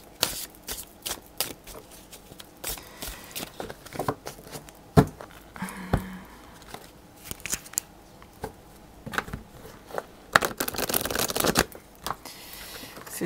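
Symbolon oracle cards being shuffled and handled on a table, giving irregular bursts of crisp flicks, slaps and rustles close by, with brief pauses and a denser flurry near the end, and no speech.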